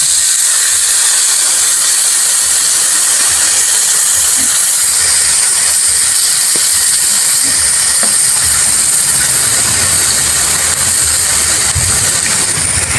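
Coconut wine (tuba) hits a hot pan of pork adobo with black pepper, bay leaf and salt, giving a loud, continuous broadband sizzle and hiss that holds steady for the whole stretch.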